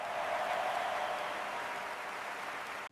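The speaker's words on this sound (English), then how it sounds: "Please give a huge round of applause for our wonderful student" Audience applause for a student at an evening gathering, a steady dense wash of clapping held for nearly three seconds before cutting off abruptly.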